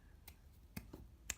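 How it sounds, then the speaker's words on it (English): A failed finger snap: a few faint, dry clicks scattered across a quiet moment, with no crisp pop. "I was going to snap my fingers and go right now, but I messed up on my snapping."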